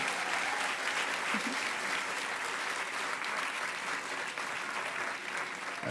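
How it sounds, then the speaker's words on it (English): A hacker conference closing-ceremony crowd gives a round of applause for the AV crew, a continuous, fairly distant wash of clapping from a large hall held evenly throughout. "A round of applause for the AV guys real quickly."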